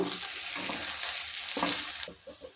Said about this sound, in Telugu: ఇవన్నీ బాగా కలుపుకుందాం